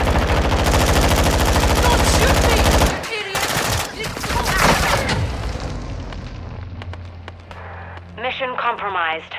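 Rapid automatic gunfire in Call of Duty: Modern Warfare 2, a loud dense burst that cuts off abruptly, followed by booms, scattered shots and shouted radio-style voices over the fading din.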